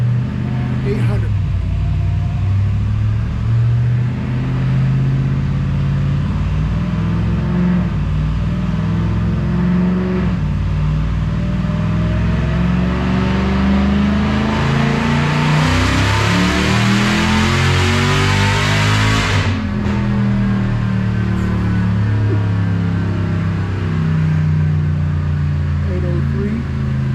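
A Dodge Hellcat engine roars continuously on a dyno during a full-power pull, revving steadily upward to a loud whining peak before dropping off near the end, with people talking faintly underneath.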